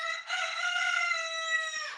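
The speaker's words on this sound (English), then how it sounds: "when you hear the crow, it does something to you." A rooster crows once in a long, sustained, harmonically rich call lasting nearly two seconds, clear and fairly close with no other sounds.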